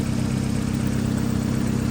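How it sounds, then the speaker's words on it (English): Toyota Celica engine idling steadily with a low, even, pulsing hum. It sounds close and continuous, with no voices. "So it's been idling pretty good."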